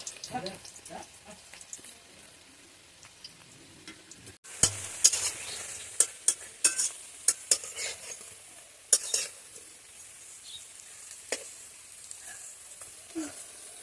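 Curry leaf pakoras (fritters) frying in a wok of hot oil with the heat switched off, giving a steady close sizzle that turns busier with sharp pops and crackles partway through, with no talking.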